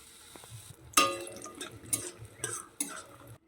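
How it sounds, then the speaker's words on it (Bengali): Bori lentil dumplings frying in hot oil in a wok, with a soft sizzle broken by several sharp metallic scrapes and clanks of a spatula against the pan. "প্রথমেই আমি বড়িগুলো ভেজে নেব"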